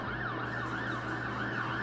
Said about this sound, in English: when an ambulance is passing by or a firefighter truck